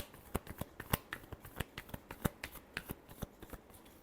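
Tarot cards are shuffled by hand in quick, rhythmic riffles, each card slap a crisp, close tap in a steady run of about twenty strokes, with no talking.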